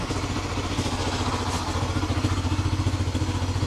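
A Yamaha XTZ 125 motorcycle running on a new STX125 carburetor after misfiring and weak power, a close, steady engine rumble with a slightly uneven, pulsing beat and faint mechanical clatter.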